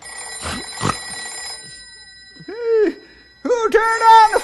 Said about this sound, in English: It's only the phone.